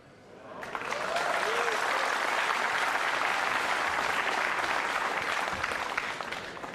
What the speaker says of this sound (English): the crowd applauds a routine safety as if he's just scored the winning goal in the World Cup final